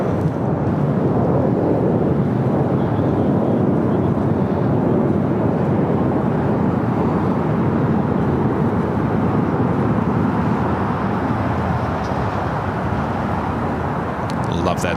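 A jet airliner lands on runway 25 left at Los Angeles International Airport, heard as a loud, sustained broadband engine roar that holds steady for the whole stretch, near and dominant.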